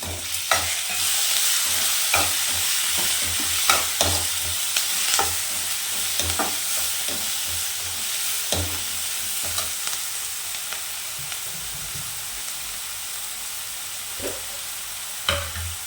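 Chopped tomato with salt fries in a pan, a continuous sizzle broken by repeated scraping and clacking strokes of a stirring spoon, close and steady with no talking.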